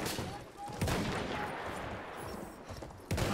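Rifle gunfire in the video game Battlefield 1, cavalry combat, with a few sharp shots spaced apart over a noisy battlefield background, fairly loud and close.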